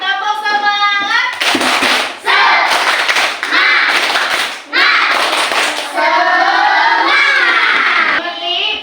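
Schoolchildren in a classroom perform a rhythmic clapping chant, loud bursts of claps and shouted syllables alternating with short pauses, close by, interleaved with a teacher's voice and children's voices.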